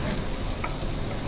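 Chili and ginger sizzle loudly in hot oil in a pan, a dense, steady, close frying hiss throughout the brief moment with no speech.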